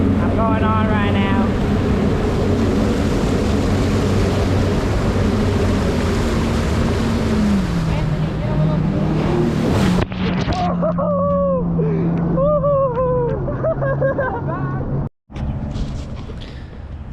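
A 1996 Sea-Doo GSX jet ski runs steadily on Clinton Lake, its engine drone loud and close with wind buffeting the microphone, while voices break in over the motor in the second half.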